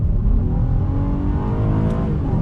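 A 2019 Acura MDX A-Spec SUV accelerates on throttle through a winding road with elevation changes, its engine drone steady and loud from inside the cabin, rising slightly in pitch.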